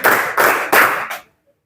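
A classroom clap game: hands clap in a loud, close, steady rhythm, three broad bursts and a shorter fourth, then silence.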